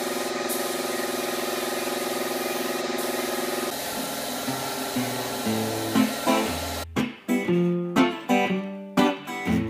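A water spray rinses sanded paint dust off a vintage caravan, a loud steady hiss that runs for several seconds, then gives way to irregular louder spurts and bursts.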